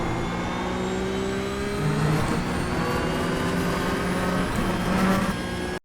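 A Porsche 911 GT3 Cup 992.1 race car at Watkins Glen in the video game iRacing, its engine droning loud and steady at high revs with small swells in pitch as it runs through a corner.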